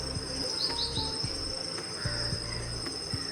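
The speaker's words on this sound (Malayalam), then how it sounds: "നമ്മുടെ പ്രകൃതിയിലത്തെ കിളികളുടെ കരച്ചിലൊക്കെ ഒന്ന് ആസ്വദിച്ച് നിൽക്കും" Small birds chirp briefly in the open air on a morning outdoors, heard over a steady, dense drone of crickets and insects, with no one talking.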